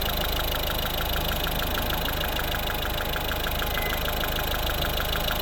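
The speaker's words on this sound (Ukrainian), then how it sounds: "ось робота двигуна" A 2013 Mazda 5 with a 1.6 diesel engine idles steadily, giving a continuous close mechanical hum with a fine regular ticking and no talk over it.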